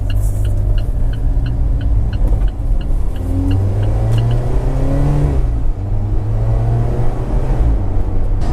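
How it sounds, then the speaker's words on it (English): An Alfa Romeo 4C Spider accelerates hard on the road, its engine building from a deep rumble into a rising, loud roar heard from close inside the car. "this thing just absolutely takes off when you put your foot down"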